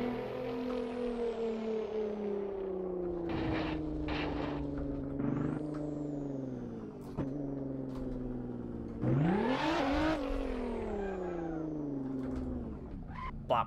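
A Nissan GT-R engine in the Assetto Corsa racing game drones steadily, its pitch sliding through gear changes, dipping and then rising sharply in a loud rev near the end, alone without talk.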